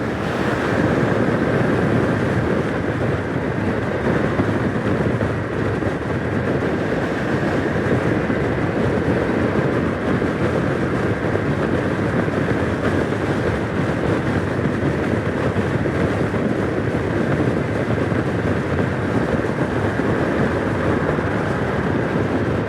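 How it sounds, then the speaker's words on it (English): Wind roars against a rider on a 2025 BMW F900R naked motorcycle cruising at 70 mph, a loud, steady, unbroken rush of air with no voices. "Quite a bit of wind hitting me, but that's as expected on a naked."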